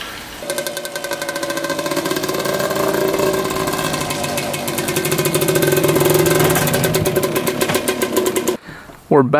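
A rare two-stroke race quad engine runs steadily at a buzzing idle with rising and falling revs throughout, close and loud, then cuts off abruptly near the end before a brief restart.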